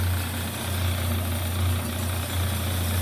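A Doall C-916-S swivel bandsaw, a variable-speed 9x16 machine, runs while cutting a piece of tube, giving a steady, close low mechanical hum with a faint whine and no talking.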